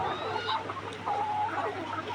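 A laying hen clucks softly in a nest box, a few short, faint calls scattered over a quiet background hum.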